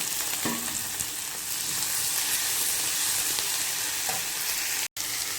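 Steady, close sizzling of onions and tomatoes frying in a hot pan for onion chutney, with occasional stirring scrapes and a brief cut near the end.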